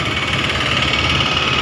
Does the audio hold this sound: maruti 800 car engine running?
yes